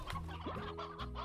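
A chicken in the video game Slime Rancher gives a short series of soft, low clucks, faint and alone.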